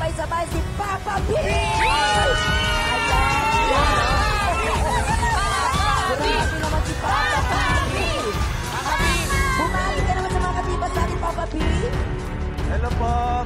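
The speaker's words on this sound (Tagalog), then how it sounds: "palakpak po natin i-welcome ng sabay-sabay si Papa P!" A live audience welcoming a celebrity guest on stage, a dense, loud crowd roar of cheering, whooping and yelling voices that holds steady throughout.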